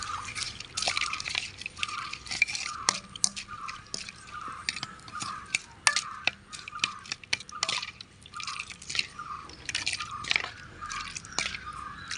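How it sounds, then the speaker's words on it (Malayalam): Buttermilk poured into a clay pot lifted off the stove while making a Kerala moru curry, giving wet dripping and splashing sounds in uneven bursts, close and fairly quiet, with no talking. "നമ്മളിനി ചട്ടി ഇറക്കി വെച്ചിട്ട് മോര് ഒഴിക്കാം നമുക്ക് മോര്"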